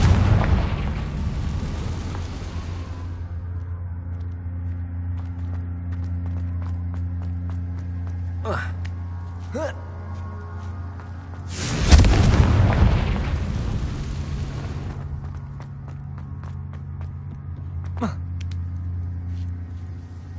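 A Confringo fire spell in the Hogwarts Legacy video game bursts in a loud booming explosion that fades over a few seconds, followed later by a second heavy blast, with game music and a voice underneath.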